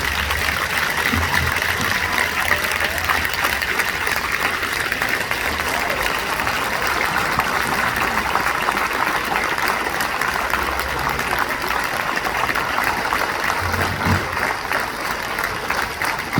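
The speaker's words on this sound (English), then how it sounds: "give them a round of applause" An outdoor crowd at a Fourth of July march in Burlington, Vermont, applauds a group of speakers: sustained, even clapping that holds steady from start to finish.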